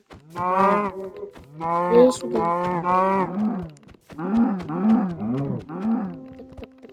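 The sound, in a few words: cow mooing in Minecraft video game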